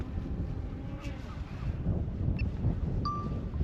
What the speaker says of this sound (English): it's a bit windy today up here